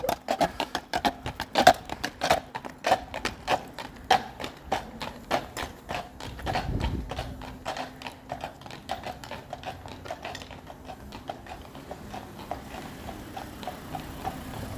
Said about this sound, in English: They occasionally take the horses along the beltline.